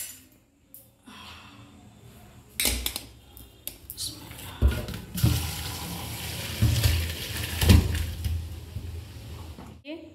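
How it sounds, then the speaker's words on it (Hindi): Water from boiled chicken is drained off in uneven splashing bursts, with pot clatter and intermittent tap-like gushing, moderately close in a home kitchen. "फ्रेंड्स देखिए चिकन उबल गया है, अब इसमें हम इसका पानी पसा देंगे"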